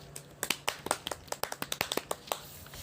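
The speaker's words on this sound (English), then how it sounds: "A round of applause, please." An audience applauds a guest speaker at a university campus webinar, with a run of sharp, fairly close hand claps that are sparse and uneven rather than a dense roar, suggesting a small group, and no talking over them.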